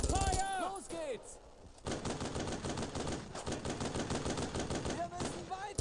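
Suppressive gunfire in the WWII shooter Brothers in Arms: Road to Hill 30, with rapid, sustained rifle and machine-gun bursts cracking close by for several seconds. Voices shout at the start and near the end.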